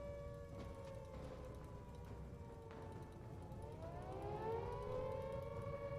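Air-raid style sirens wail in the game Highfleet, long rising and falling tones that overlap and swell louder toward the end, with no talk.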